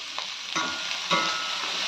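A crunchy chickpea snack stirred in a hot pan, with a few scraping strokes of a spoon over a steady frying sizzle, close and moderately loud.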